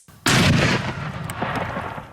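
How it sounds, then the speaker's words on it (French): A grenade detonates after being hit by a .308 sniper round with an armor-piercing cartridge: a sudden loud blast that cuts in and stays harsh and booming, with a rumbling, crackling tail. "La grenade a fait boum. On ne l'a pas désintégrée. Elle a explosé."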